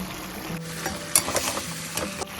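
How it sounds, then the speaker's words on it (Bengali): Fried chicken pieces go into a wok of chicken biryani masala, setting off a close, steady sizzle with a few scraping stirs of a spoon against the metal. "এবারে আমি মাংসগুলো দিয়ে দিচ্ছি ভাজা মাংসগুলো। এবারে আমি কড়াইয়ের মধ্যে দিয়ে দিচ্ছি"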